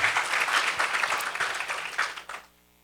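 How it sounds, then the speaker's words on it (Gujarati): An audience applauds Swamiji after his lecture at a religious discourse: dense, steady clapping from many hands for over two seconds, then it abruptly dies away into near silence. "એ અન્વયે આપણે સ્વામીજીને એક વખત તાળીઓથી વધાવીએ"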